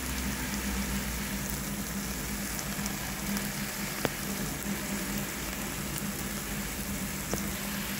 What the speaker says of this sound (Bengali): এবার এটাকে ভালো করে সাঁতলে নেব।